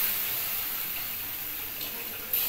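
Water poured into a pan of frying semolina makes a steady hissing, gushing wash, close and continuous, with a brief louder splash near the end.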